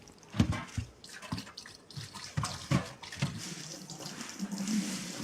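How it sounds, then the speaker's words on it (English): Diet soda splashes and trickles into a sink in uneven gushes and drips, fairly quiet and close, with no one speaking over it. "Pour it down the sink."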